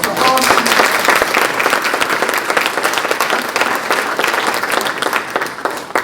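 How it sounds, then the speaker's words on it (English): An audience at a college Black History Month celebration gives a round of applause, sustained lively clapping heard close and loud for the whole stretch. "So let's go ahead and give her a round of applause for all of you."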